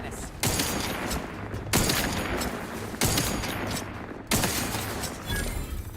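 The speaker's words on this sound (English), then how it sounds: "this rifle's pretty good" Rifle fire in a video game, four loud sharp shots spaced over about six seconds, each trailing into a rumbling echo with a wash of background noise between.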